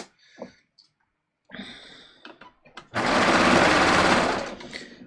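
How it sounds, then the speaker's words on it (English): A serger sewing machine that needs a tune-up, used on a sample of fabric, rattles loudly and continuously for about two seconds after scattered clicks and brief handling noises; some voice is heard early on. "this serger is in dire need of a tune-up"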